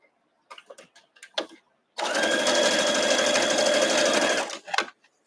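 A sewing machine stitches quilt block pieces in a steady, fast whirring run of about two and a half seconds, close and clear, with brief handling clicks and soft talk before and after.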